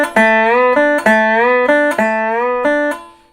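Lap steel guitar lick played with pick blocking: a series of clean, bright plucked notes in an even rhythm, with bar slides between some of them and crisp stops on each note, close and loud, ending on a fading note.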